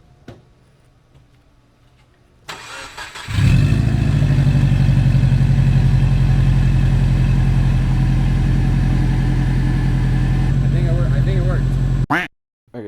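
A car with an external wastegate, fresh from a repair attempt, cranks and fires after a short starter whir, then settles into a steady, loud idle rumble close by before being cut off, with people talking briefly.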